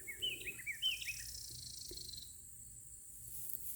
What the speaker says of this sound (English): An owl coming into his tree.